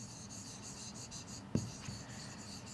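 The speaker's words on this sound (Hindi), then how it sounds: "यहां पर मैं लिख रही हूं" A marker scratches across a classroom board in short squeaky strokes, faint and close, with a light tap partway through and no talking.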